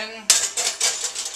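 A metal pan set down on a kitchen stove burner: a sharp clatter followed by a few lighter clanks and scrapes of cookware, close and loud, no talking.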